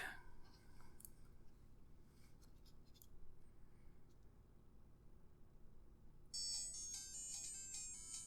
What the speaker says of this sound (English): That sounds exactly like the Tetris music that, comes off of like a Game Boy.